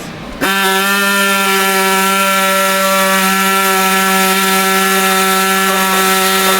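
A power saw cuts into hardened bolts on the turbo outlets of an SL63 AMG, producing a loud, steady, high-pitched metallic whine that begins abruptly after a brief pause and holds without a break, with no voices.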